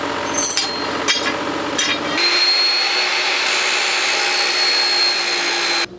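A saw cuts steel frame tubing to a 16-inch length for a Grom motorcycle frame build, starting with a few sharp strikes and then settling into a loud, steady, continuous cutting whine that stops abruptly at the end.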